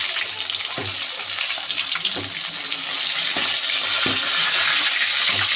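Fish frying in oil, Kadapa style, a dense continuous crackling sizzle with several soft knocks of a utensil at irregular intervals, close and steady throughout.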